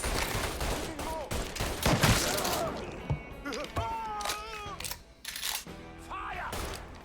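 Rapid gunfire rattles in Mafia III, with bursts of shots crackling close and loud while voices shout over the fighting.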